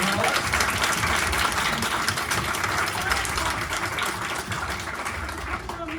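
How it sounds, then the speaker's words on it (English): A crowded audience at a community panel event applauds the panelists, a sustained dense rattle of clapping that stays loud and even for several seconds, with faint voices mixed underneath. "Please join me in applauding our amazing panelists."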